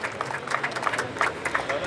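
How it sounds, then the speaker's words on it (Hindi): Audience at a science festival closing ceremony applauding, dense scattered clapping with a murmur of voices under it, steady and moderately loud throughout the brief moment. "तालियां रुकनी नहीं चाहिए।"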